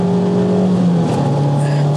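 An Abarth pushed hard on the Bilster Berg race track during a trackday, its engine a loud, close, sustained drone that climbs steadily in pitch as it accelerates.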